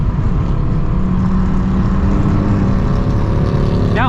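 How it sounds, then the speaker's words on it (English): Ford Raptor pickup exhaust, fitted with Fox race-series shocks, droning loud and steady through a tunnel with low rumbling tones that rise slightly at the very end. "That exhaust actually sounds pretty good, to be honest."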